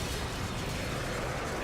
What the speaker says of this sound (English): Also, I like that stock explosion sound effect.